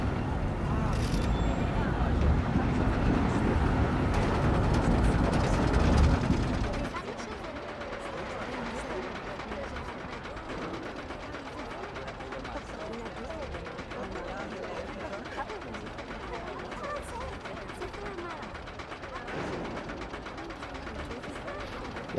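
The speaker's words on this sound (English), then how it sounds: "I do like when people take the time to detail their mine train rides" Mine train roller coaster in a theme park game, a loud rumbling, clattering ride noise for the first seven seconds, then a steadier, quieter mechanical rattle with a voice talking over it.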